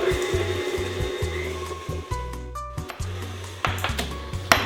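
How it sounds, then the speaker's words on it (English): Electric mixer beating flour, butter and sugar until fluffy and pale for an apricot crumb cake, a steady whirring hum that starts and stops in short bursts, close and fairly loud with scraping and clatter between runs. "I'll beat the flour, the butter and sugar until it's fluffy and pale"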